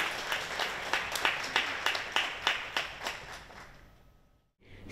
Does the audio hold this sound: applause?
yes